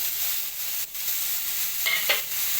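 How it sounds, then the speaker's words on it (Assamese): Small fish fry with onions in a wok, steady loud sizzling continuous throughout, with a brief stir or scrape near the end. "মাছখিনি মই কেৰাহীটোত ঢালি দিম"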